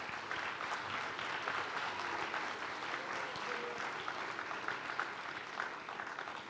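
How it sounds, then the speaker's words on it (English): Sustained applause for graduates at a diploma graduation ceremony, a broad even wash of many hands clapping together, distant and fairly soft, steady throughout with no speech over it. "Let us give a round of applause to the graduates who have just been presented."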